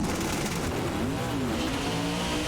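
The Ken Block Hoonicorn race car runs against an AWD trophy truck, its engine screaming hard under acceleration with rising and falling pitch and a hint of tyre noise, loud and continuous.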